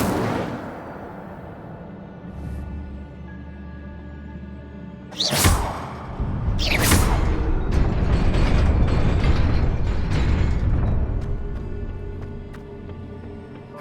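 Casting the Incendio fire spell in Hogwarts Legacy unleashes two sharp whooshing bursts followed by a loud, sustained roar of flames over a low rumbling background.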